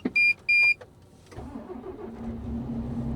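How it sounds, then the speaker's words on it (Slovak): A road maintenance truck's diesel engine turns over after two short electronic beeps, catching quickly and settling into a low, rumbling idle close by. "A diesel neomylne sa prebudil k životu"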